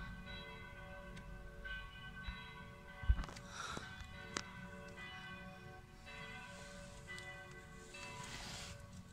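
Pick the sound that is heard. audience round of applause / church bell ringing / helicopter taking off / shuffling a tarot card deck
church bell ringing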